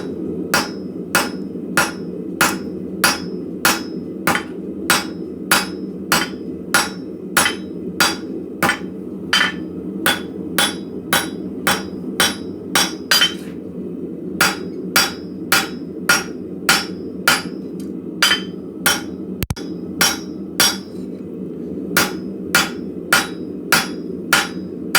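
Hammer blows on high carbon steel at an anvil, struck half on and half off the anvil edge: sharp, bright metallic strikes in a fast steady rhythm, dozens in a row with a few brief pauses, close and loud.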